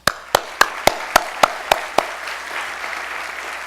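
A handful of sharp, evenly spaced hand claps ring out in a reverberant room at a congress opening ceremony, about eight in a row, then fade into a soft echo.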